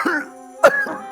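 A single sharp cough from a man seated at a stand-up comedy show, one abrupt burst between stretches of voiced sound, close and fairly loud.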